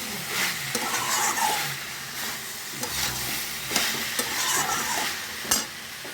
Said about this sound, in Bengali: এবার সব কিছু আমি মিশিয়ে ভালো করে নাড়াচাড়া করে